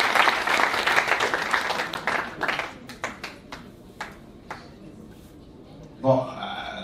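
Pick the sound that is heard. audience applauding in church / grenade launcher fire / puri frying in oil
audience applauding in church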